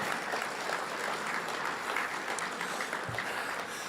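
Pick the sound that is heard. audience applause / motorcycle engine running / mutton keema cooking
audience applause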